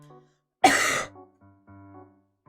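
A single harsh cough or throat-clearing bursts out close up, with a faint low hum before and after.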